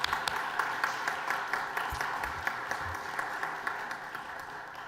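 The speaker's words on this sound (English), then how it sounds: "Can we give Addie and Kate a round of applause?" An audience at a school board of trustees meeting gives a round of applause, a steady wash of clapping with distinct individual claps standing out throughout.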